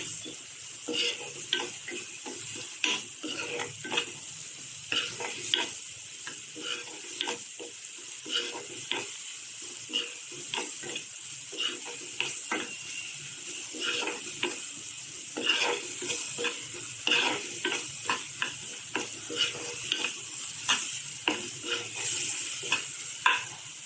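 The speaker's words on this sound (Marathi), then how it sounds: "टोमॅटो जरा हे करायचं तेलामध्ये सरसवायचं" Tomatoes sautéing in hot oil for a potato and cluster-bean dish, a constant bright sizzle broken by frequent sharp spatula clicks and scrapes against the pan, close and steady, with no speech.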